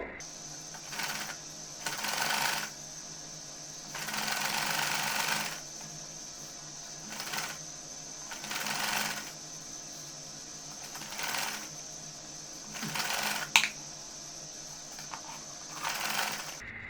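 A sewing machine stitches folded bias-strip piping onto a winter frock, running in repeated short bursts of a few seconds each with pauses between, close and moderately loud, with a small sharp click near the end.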